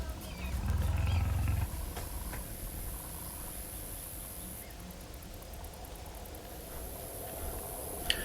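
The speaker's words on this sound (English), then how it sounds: "And here's this big lion." A big lion roars in a 2D animated short film, a loud deep roar up front fading into lower growling rumbles and hiss over a steady background, with faint chimes later.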